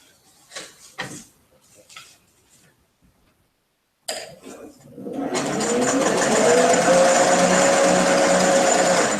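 A sewing machine chain-pieces quilt fabric, starting after a few soft coughs and clicks, then running in a loud, continuous, steady whir up close.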